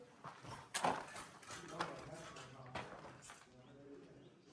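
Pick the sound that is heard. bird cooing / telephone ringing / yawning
bird cooing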